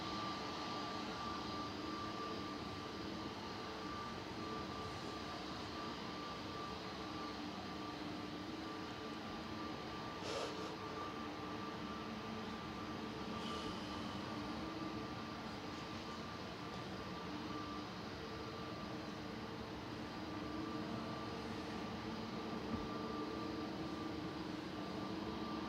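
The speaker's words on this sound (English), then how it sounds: "Touching down now on 23 right is" A jet airliner lands on runway 23 right at Manchester Airport, a steady broad engine roar holding at even loudness throughout with a faint tonal whine, no voices.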